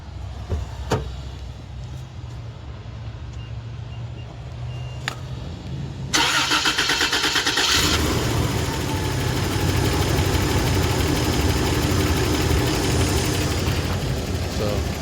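A 1991 Toyota Land Cruiser engine cranks and fires up after some quiet shuffling and clicks, then settles into a steady, rumbling idle close by.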